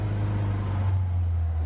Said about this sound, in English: now that the car is started, we're letting it warm up